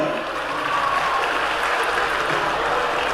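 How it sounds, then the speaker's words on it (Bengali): Continuous applause from a crowd at a public event with the chief minister in Murshidabad, a dense, even wash of clapping that holds steady throughout. "তাই একটু জোরে হাততালি"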